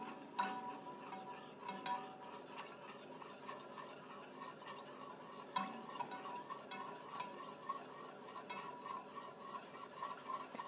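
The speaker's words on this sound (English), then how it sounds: "So come in here and stir it." Oil and flour are stirred in a pan with a continuous, quiet scraping and swishing, broken by occasional light clinks of the utensil against the pan. No one speaks.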